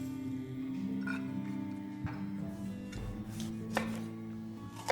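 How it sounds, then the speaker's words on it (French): An onion being finely chopped with a knife on a board: a few faint, irregular knife taps over a steady low hum, fairly quiet. "on va hacher l'oignon"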